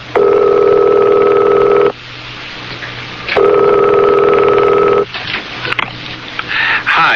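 A telephone rings twice in long steady bursts with a pause between, then a shorter tone, followed by faint clicks and rustling as an answering machine picks up.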